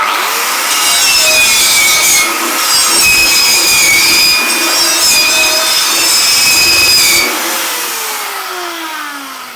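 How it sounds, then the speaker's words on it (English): A stainless steel pipeliner wire wheel scrubs a copper boiler clean, giving a loud, steady abrasive whir with a high whine for about six seconds before winding down and fading. "I'm going to use a stainless steel wire wheel"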